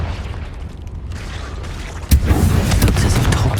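A sudden booming blast from the Confringo fire spell in Hogwarts Legacy, set inside a cave, bursting loudly after quiet ambience and trailing off in a rumbling crackle.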